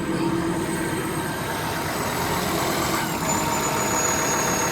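A big machine's engine idles steadily at close range, a constant mid-pitched rumble with faint whining tones above it, running alone without voices.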